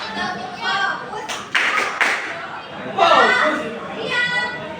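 A high school classroom of students claps a short rhythmic focus clap in a few sharp, near bursts, mixed with children's voices chanting and talking around the claps.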